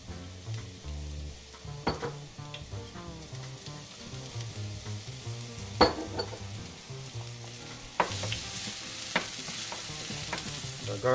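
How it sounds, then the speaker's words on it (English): Minced garlic and green onion whites fry in hot olive oil for Korean garlic chili noodles, giving a steady close sizzle with scattered stirring clatter and a louder burst of crackling partway through, no voices. "You want to let your garlic and onion cook for until they are fragrant, or just about a minute"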